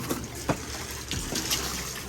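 Water rushes and splashes steadily while filling a baby water turtle enclosure indoors, a broad close gush with a few sharper splash bursts.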